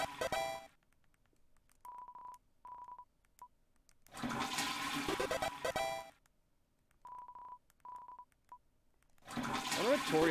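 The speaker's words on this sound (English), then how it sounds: "What happens if you do the flush in chapter 2?" Toilet flushing in the video game Deltarune Chapter 2: three loud, rushing flushes, separated by short, steady electronic tones.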